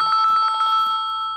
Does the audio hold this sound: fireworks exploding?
no